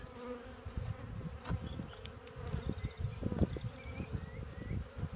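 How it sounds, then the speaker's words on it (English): A low, steady hum of many honey bees buzzing close by around an open hive, droning continuously with occasional louder passes as individual insects fly near. "I've got to be a little bit careful I don't upset these bees too much"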